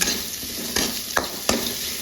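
Frying and stirring in a pan while making rava upma: a steady close sizzle punctuated by three crisp spoon scrapes against the pan at a relaxed, even pace.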